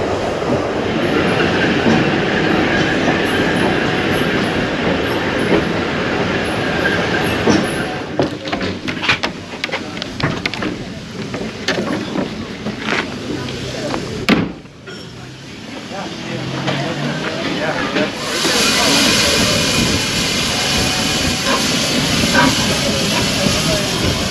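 A steam train rumbles and hisses loudly nearby on the Isle of Man, with clanking and rushing noise that briefly dips before a bright steam hiss rises, people talking underneath.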